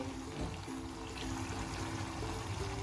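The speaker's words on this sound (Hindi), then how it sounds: "एक कप पानी लगा के" A cup of water is poured into a pot of chicken, yogurt and spices for street-style chicken masala biryani, a soft continuous trickle under a low kitchen hum.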